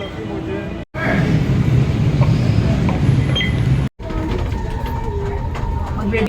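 Riding an LRT light rail train in Manila, a continuous loud rumble of the carriage in motion, broken twice by abrupt cuts, with a voice speaking over parts of it.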